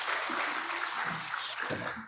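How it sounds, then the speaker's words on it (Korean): Church congregation at a Korean Sunday afternoon worship service applauding as the pastor comes forward, a short burst of steady massed clapping with a few low thumps and faint voices underneath. "우리 목사님 나오실 때 큰 박수로 맞겠습니다"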